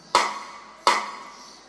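A keyboard side-snare sample imitating a stick striking the side of a snare, two bright, sharp cracks about three-quarters of a second apart, each with a ringing tail, heard alone.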